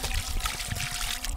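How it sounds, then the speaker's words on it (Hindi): Water pours over fish as it is washed before cooking a fish curry, a steady close trickle and splash with no talking. "चलो इसमें डालेंगे पानी"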